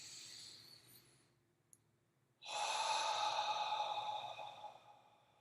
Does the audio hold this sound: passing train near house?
no